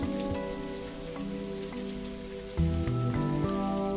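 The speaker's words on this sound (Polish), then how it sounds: "Teraz upada deszcz nad naszym lotniskiem." Steady rain patters over an airport in the video game Airport CEO, against a background of sustained synthetic tones, a continuous even hiss with no voices.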